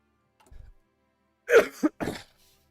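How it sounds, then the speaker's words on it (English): Several coughs from a person who is sick: a faint short rasp, then a strong harsh cough with a quick second burst and a third cough after it, close to the microphone. "I'm sorry for my coughing."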